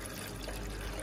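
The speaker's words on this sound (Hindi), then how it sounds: "थोड़ा सा पानी डाल रही हूँ क्योंकि मैंने सिर्फ एक कप चाय का ही बनाना है" Water trickles steadily as a small amount is poured into the reservoir of a 3-in-1 breakfast machine, a soft continuous liquid stream with no talk.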